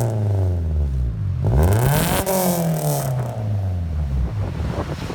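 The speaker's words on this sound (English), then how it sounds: "Deleted the resonator and the original muffler. I'll let you guys hear it in a minute." A 2009 Toyota Corolla with a resonator delete and stainless steel muffler revs hard, its deep exhaust note climbing and falling in loud, sweeping pitch bends, alone with no talk.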